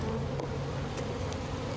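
Honey bees buzzing at an open hive during a package installation with a queen cage, a steady dense hum close by with no voices.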